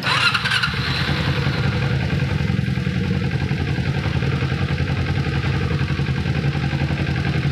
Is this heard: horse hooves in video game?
no